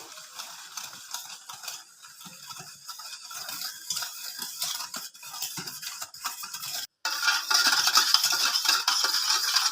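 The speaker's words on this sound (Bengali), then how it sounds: "এবার সব কিছু আমি খুব ভালো করে মিশিয়ে নেব" Orange cake batter of sugar and yogurt being stirred in a bowl, eggless, with a steady wet scraping and sloshing that runs continuously and grows louder near the end, no talk.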